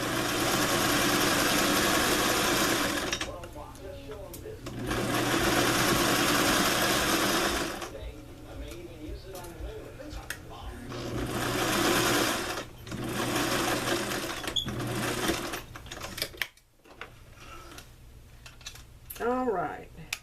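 A sewing machine runs in bursts while stitching a placket zipper along the edge near the teeth, with a steady close whirring hum that starts and stops, and a voice talking in the pauses between runs.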